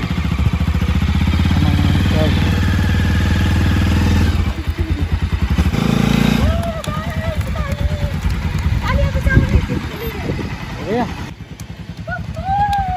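A motorbike being ridden gives a steady, buzzing engine drone that fades in and out, while people talk and laugh over it.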